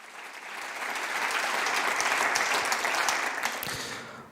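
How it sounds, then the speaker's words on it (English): An audience at a remembrance event for Kristallnacht and the Hamas pogrom applauds to welcome a female guest, a steady wash of many hands clapping that swells and holds, then tapers off near the end. "So please welcome her with a warm hand of applause."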